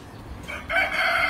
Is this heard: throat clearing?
no